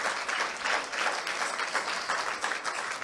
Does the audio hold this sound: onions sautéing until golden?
no